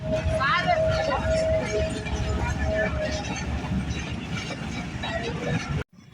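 A train pulls into a station on a rainy day with a low rumble and a brief high tonal squeal, under a murmur of people talking nearby.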